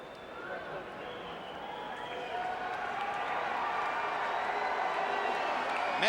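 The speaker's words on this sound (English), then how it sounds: "Filipino fans booing Barrera" Boxing arena crowd before the Barrera vs Pacquiao fight, Filipino fans booing Antonio Barrera as he tours the ring: a dense, sustained roar of many voices that swells steadily louder over the whole stretch.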